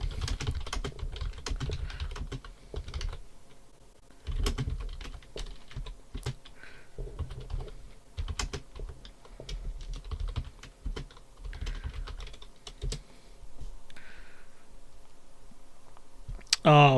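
Computer keyboard being typed on in irregular bursts of clicky keystrokes, fairly close, with brief pauses and a faint voice in the background.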